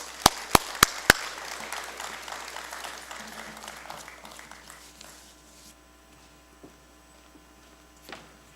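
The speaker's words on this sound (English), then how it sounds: "Give him a round of applause" Audience applause at a formal conference opening in Suriname, starting with a few sharp, loud claps and swelling into steady clapping from a sizable crowd that gradually fades over several seconds.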